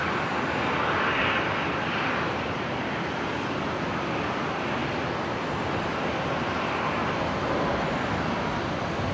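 A Qantas Boeing 787 pushes back at Brisbane Airport amid a steady, broad roar of jet engines and airport noise that holds constant and loud throughout, with no talking.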